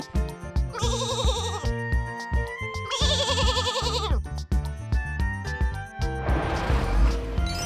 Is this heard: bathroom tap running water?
no